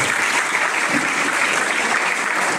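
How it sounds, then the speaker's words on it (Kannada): Steady applause from the audience at a college freshers party, honouring the students who decorated the stage; dense, even clapping fills the whole moment without a break and carries no speech. "ಈ ಒಂದು ವೇದಿಕೆಯ ಮುಖಾಂತರ ಅವರಿಗೆ ಚಪ್ಪಾಳೆಯನ್ನು ತಡ್ತೀರಿ ಅಂತೇಳಿ ಭಾವಿಸ್ತೀನಿ"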